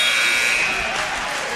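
A basketball game buzzer blares at the end of a period, a steady electronic tone sounding loudly for over a second while crowd noise rises beneath it.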